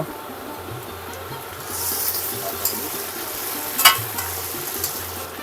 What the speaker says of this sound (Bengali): এই নেড়ে নেড়েই রান্নাটা করে নিতে হবে